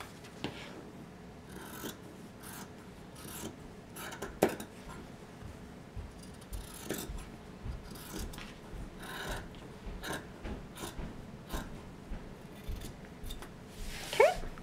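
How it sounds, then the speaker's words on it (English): Scissors trimming excess fabric while sewing an embroidered reticule: faint, close snips and rustles in an irregular rhythm, with soft handling noises between cuts. "I usually just go ahead and trim the excess fabric."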